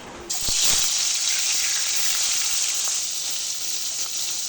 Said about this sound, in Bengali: তেলটা খুব ভালো করে গরম হয়ে গেছে। লবণ হলুদ মাখানো মাছগুলো ভেজে নেব।